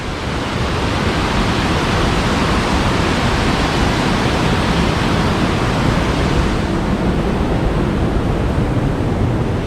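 A constant, heavy roar of rushing water from Kobbelvfossen waterfall in northern Norway, loud and unbroken throughout, close by.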